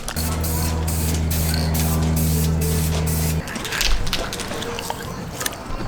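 Scooter parts from a 1989 Honda Elite being spray painted: short hissing aerosol bursts over a loud steady hum that cuts off partway through, followed by handling noises and a brief low thump.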